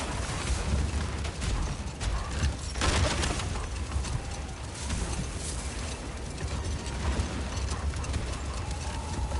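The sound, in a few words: domesticated Gulon animals pulling a sled in God of War video game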